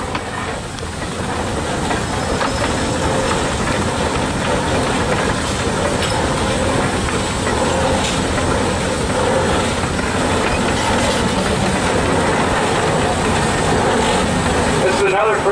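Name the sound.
1901 Russell 13 horsepower steam traction engine running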